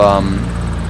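Piper Tomahawk light aircraft engine in the X-Plane simulator, taxiing on grass at near full throttle; a loud, steady propeller drone with a strong harmonic buzz throughout.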